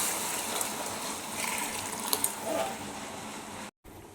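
Six glasses of boiling water are poured into rice for fried chicken biriyani, a steady close gushing pour that holds for several seconds before cutting off briefly near the end.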